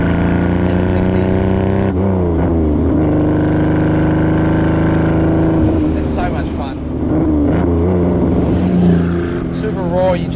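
Ferrari 250 GT Berlinetta Lusso from the 1960s driving, its engine and loud blowing exhaust droning steadily with shifting revs. A person talks over it.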